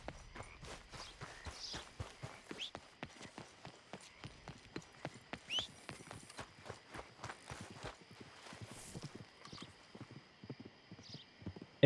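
Horse hooves clip-clop steadily in the video game Red Dead Redemption 2, a quick rhythmic run of close hoofbeats that lasts throughout, with occasional brushy rustles.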